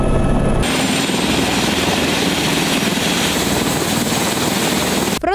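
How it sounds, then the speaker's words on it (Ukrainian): A loud, steady H-225 Super Puma helicopter drones close by at an air base, its rotor and turbine roar continuous and unbroken. "прибув гелікоптер H-225 «Супер Пума»"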